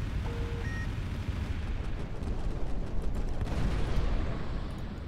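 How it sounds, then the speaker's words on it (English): A thermal barrage fires in the sci-fi strategy game Final Theory, a sustained, heavy roar of overlapping explosions and booms that swells slightly louder toward the end, with a few faint electronic tones early on. "Thermal barrage"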